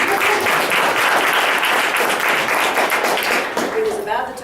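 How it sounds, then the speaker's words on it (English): Loud, sustained applause from a large crowd, dense clapping throughout with a few voices and cheers rising near the end. "Big clap."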